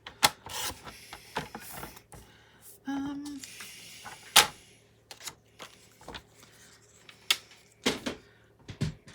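Cardstock piece for a gumball greeting card being cut on a paper trimmer, with scattered sharp clicks, scrapes and sliding rasps, some brief and some drawn out, against a quiet background.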